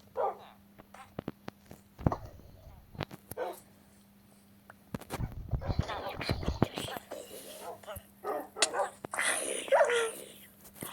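Dogs bark and yip in short bursts amid clicks and game-like effects in a video game with zombie villagers attacking a village, growing busier toward the end, with a voice talking briefly.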